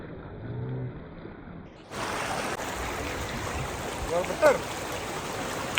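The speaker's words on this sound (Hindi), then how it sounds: "पूरा बहता हुआ पानी" River water flows steadily in the Zanskar valley of Ladakh, a continuous broad rushing wash that starts after a brief, quieter stretch with faint voices and then runs unbroken and close.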